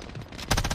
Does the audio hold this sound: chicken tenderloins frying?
no